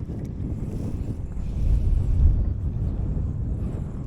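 Wind buffets a small fishing boat on the water while striper fishing in New England in March, a steady low rumbling roar against the microphone that swells briefly midway, with no voices.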